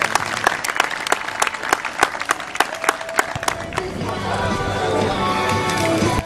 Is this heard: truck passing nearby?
no